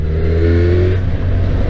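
Kawasaki Z1000 R motorcycle engine running and revving low in city riding, a loud steady mid-range engine drone with a brief rise in pitch, alone without talk.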